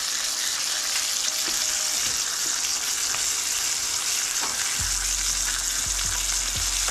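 Rainbow trout fries in a pan with a loud, steady sizzle throughout, joined by a low rumbling hum and a few soft knocks in the later part; no voices.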